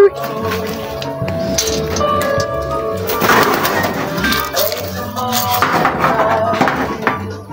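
Racing pigeons coo and rustle close by in a loft, giving a steady layered murmur of soft throaty calls with occasional wing flaps and knocks. Someone speaks over them.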